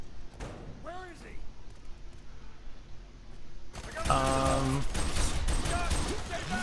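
Heavy gunfire erupts in the shooter game Fear 3, a dense barrage of rapid shots and thuds that swells loud and continuous in the second half, following quieter scattered effects and game sounds.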